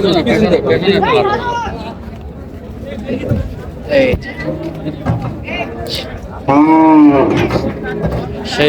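A dairy cow at a village cattle market in Dinajpur lows loudly a few times, close by, over constant talking and crowd chatter.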